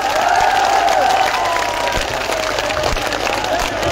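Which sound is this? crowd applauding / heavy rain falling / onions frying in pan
crowd applauding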